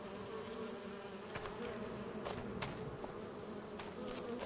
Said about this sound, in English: I just heard a bee way out here in the field.